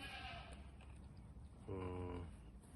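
A dairy goat bleats with a wavering, drawn-out cry near the end, over steady background noise.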